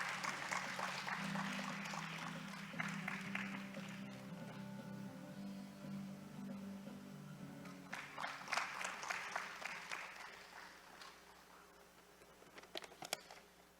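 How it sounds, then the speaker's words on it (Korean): Audience applause fills a conference opening ceremony, steady and fairly soft for most of the stretch, swelling slightly toward the end, with light voices murmuring underneath. "여러분 따뜻한 박수로 맞아주시기 바랍니다."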